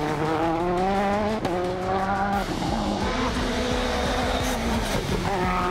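A rally car driven fast during rally testing in the Catalan backcountry, its engine roaring loud and close with rising and falling revs through gear shifts and brief tire squeal.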